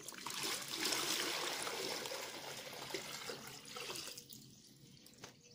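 Water splashing and trickling in buckets used for soaking parsley seeds, a faint close-up pouring and sloshing that tapers to drips.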